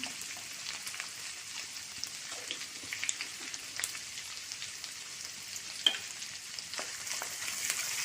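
Asafoetida with finely chopped ginger roasts in hot oil for tomato rice, giving a faint, steady crackling sizzle with small pops and spatters throughout. No one speaks.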